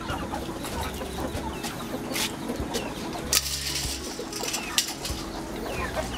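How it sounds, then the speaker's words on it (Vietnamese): A flock of chickens, including newly hatched chicks, clucking and chirping in a home garden, with scattered calls and occasional wing flaps over a steady low outdoor background. "Và đây là một đàn gà con vừa mới nở."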